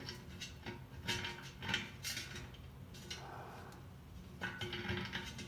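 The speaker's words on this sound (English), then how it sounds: "I'll pick this bolt and screw on brass tap" Brass tap being screwed onto a copper water dispenser, giving soft intermittent metallic clicks and scraping taps, fairly faint and close, with no talking.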